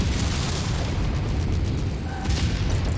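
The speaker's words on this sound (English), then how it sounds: "that autocannon does not feel good" Autocannon fire hitting a mech in MechWarrior 5: Rise of Rasalhague, a continuous heavy rumble of impacts and booms filling the whole stretch at steady loud level.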